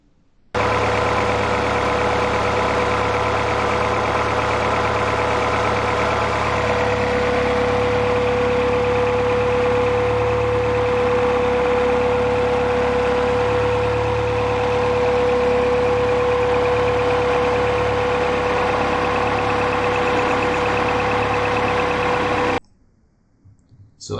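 Honda B series engine idling steadily during an ignition timing check on a coil-on-plug conversion, a loud continuous hum with a fixed tonal whine and light ticking, running alone for over twenty seconds before cutting out.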